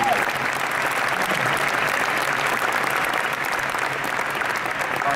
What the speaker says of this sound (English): How about a round of applause for those people?